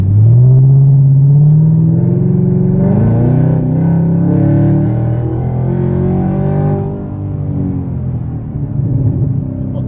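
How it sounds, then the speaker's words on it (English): Supercharged Chevrolet Camaro ZL1 engine pulling hard under full throttle, a loud close rumble with rising harmonic tones through the first seconds, then steady strong drone that eases slightly near the end, no talking. "Oh, I can hear the supercharger sometimes."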